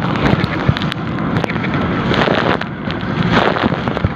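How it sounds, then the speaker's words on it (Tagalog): Strong wind buffeting a rubber boat out in open water with high waves, a loud, continuous gusty roar with rough splashy bursts throughout. "So ganyan kalakas ang hangin dito sa gitna."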